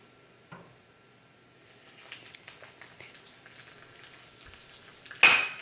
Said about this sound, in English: now I'm adding the jalapenos